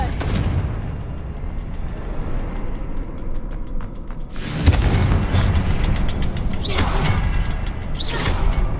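Fiery blast and whooshing bursts from the Confringo spell in Hogwarts Legacy, sharp eruptions around four seconds in and again near seven and eight seconds, over a steady background rumble of game ambience.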